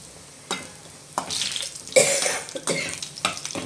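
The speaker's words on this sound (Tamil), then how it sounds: "எண்ணெயில் போட்டு பொறிச்சிக்கலாம் கொஞ்சம் கொஞ்சமாக போட்டு நாலு ரெண்டு தடவை இந்த மாதிரி நல்லா நம்ம வறுத்துக்கும்" Horse gram vathal, a sun-dried lentil crisp, frying in hot oil in a home kitchen, giving a steady broadband sizzle with sharp bursts and crackles as pieces are dropped in or stirred, close and fairly loud with no talking.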